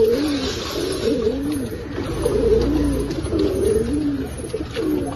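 Pigeons coo in a loft, the low rolling calls repeating one after another in an uneven rhythm, close and clear over a soft steady background, with no talking.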